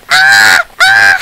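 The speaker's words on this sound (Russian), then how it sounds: "Ворона каркнула." A crow in a video game gives two loud, harsh caws in close succession, each a drawn-out nasal call with a brief gap between them and no other sound.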